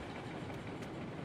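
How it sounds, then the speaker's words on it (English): A train rumbles in the video game Railroads Online with a steady low rolling noise and faint clatter, continuous and moderately quiet throughout, with no voices. "It was Paul's train"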